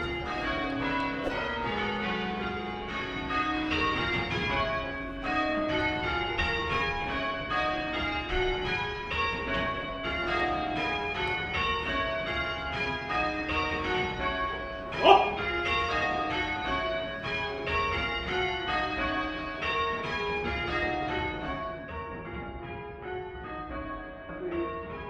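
Church bells in Alderney, rung by professional bell ringers in a continuous cascading peal of overlapping strikes that carries on steadily for the whole stretch.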